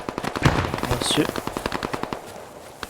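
Rapid machine-gun bursts crackle in the World War II shooter Squad 44, with several close rattling volleys and scattered single shots over a dense battlefield background.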